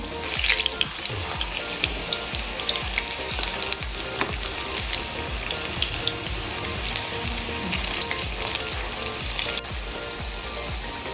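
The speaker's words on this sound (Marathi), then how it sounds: "इथं आपल्याला मीडियम हीटवरती भजी तळून घ्यायची आहे" Spring onion bhaji fritters deep-fry in hot oil at medium heat, giving a loud, dense, continuous crackling sizzle with frequent bubbling pops right up close.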